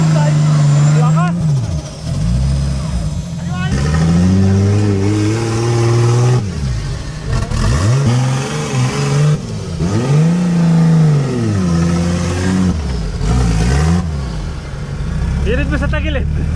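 A Toyota Hilux on a rocky off-road trail revs hard in repeated surging bursts, its engine climbing and dropping close by, with people talking and shouting over it.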